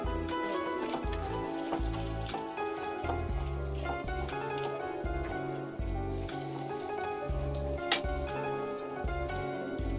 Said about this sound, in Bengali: এগুলো সব ভালোভাবে ভাজা হয়ে গেছে